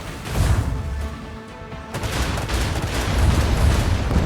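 Ship weapons fire on a destroyer in the Rogue Trader video game, a dense volley of gunfire and booming impacts that swells, dips briefly, then rolls on loud and continuous with no voices.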